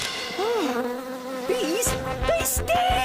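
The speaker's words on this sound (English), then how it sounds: "there's bees in here!" Bees buzzing indoors, wavering whiny drones weaving close by, with brief clattering noises later on.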